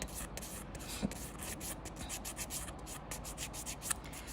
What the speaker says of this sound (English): Just gonna file off that excess glue that's on the side.